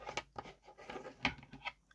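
Scissors snipping through glue-smeared material, a run of quiet, uneven sticky cuts and clicks, close and soft with no talking.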